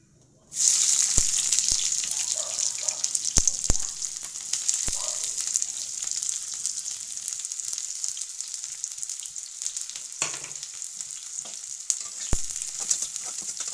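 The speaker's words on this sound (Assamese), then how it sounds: "এয়া মোৰ তেল গৰম হৈ গ'ল। মই এতিয়া কাটি থোৱা পিয়াজখিনি অলপ অলপকৈ ঢালি যাম।" Chopped onions drop into hot oil and fry with a loud, continuous crackling sizzle that starts abruptly and continues, with sharp clicks of stirring and utensils, for a country chicken curry with spinach.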